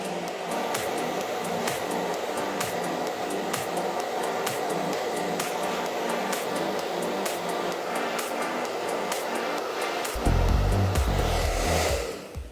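A hair dryer blows steadily while wrap drying the underneath of a woman's hair, a constant close whoosh with faint rhythmic brushing ticks, and a low rumble of handling near the end.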